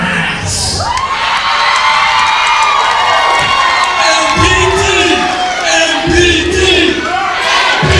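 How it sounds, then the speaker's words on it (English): A loud professional wrestling crowd cheers, whoops and yells around the ring, a continuous roar of many voices with shrill shouts rising above it throughout. "Anthony Markus firing up the crowd"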